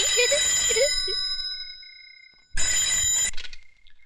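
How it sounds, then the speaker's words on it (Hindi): A bright electronic phone ring trills twice with a pause between, loud and clear with nothing else around it. "बज गई आपकी घंटी"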